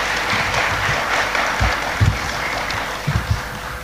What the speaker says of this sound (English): So let us give her a very deserving round of applause.